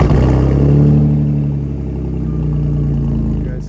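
A BMW E46's engine runs close by with a steady mechanical clatter and low hum, rising in a brief rev early on before settling back to an even idle.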